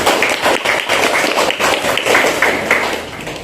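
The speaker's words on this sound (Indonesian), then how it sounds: "Tepuk tangan untuk semuanya" Students in a classroom applaud together, a loud, close burst of clapping with rhythmic group claps over a few seconds.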